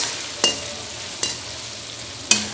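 Onions frying over a medium flame in a pan, a steady close sizzle with three sharp scraping stirs spaced out across it.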